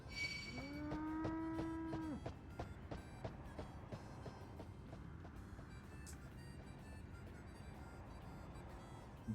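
Livestock in Final Fantasy XIV give a long, loud bleat and then a drawn-out moo-like cry over a dense ambient game soundscape with chiming tones, then a steady background bed with no voices.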